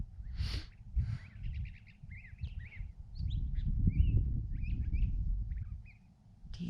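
Small birds chirp repeatedly in short, high, rapid calls outside a greenhouse in late December, moderately close over a steady low rumble of wind or background noise.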